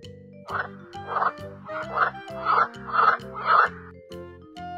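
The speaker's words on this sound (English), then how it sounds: "Frog." Cartoon-style frog croaking for a children's animal lesson: about six loud, rhythmic croaks in quick succession over a soft, steady musical backing.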